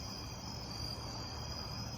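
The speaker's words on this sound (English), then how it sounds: "can probably hear the crickets." Crickets chirp in a dense, steady, high-pitched chorus outdoors at nightfall, continuous and fairly faint with no voices over it.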